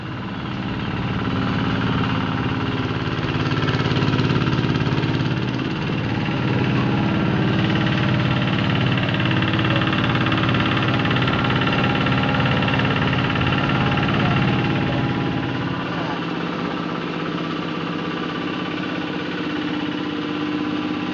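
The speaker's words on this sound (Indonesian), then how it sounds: "ini adalah salah satu mesin rontokan padi atau power thresher yang belum jadi" An unfinished power thresher for rice in a Karawang workshop, its engine running steadily and loud, a dense continuous mechanical drone with knocking vibration throughout, no talk.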